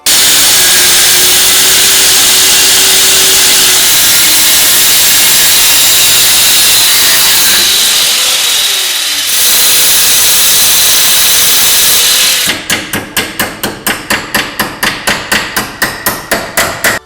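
Loud, steady high-pitched grinding or cutting of metal pieces for fender brackets runs continuously, then gives way to a fast, regular series of sharp rasping strokes near the end.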